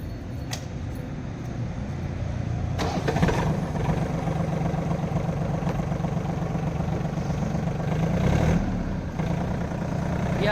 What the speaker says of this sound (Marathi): ही आहे मित्रांनो टार्गेट 625 या ट्रॅक्टरची फायरिंग